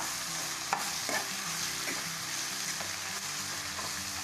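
Vegetables sizzle and fry in a sambar gravy with turmeric and rock salt, a steady close hiss broken by the light knocks of a spoon stirring, no voices.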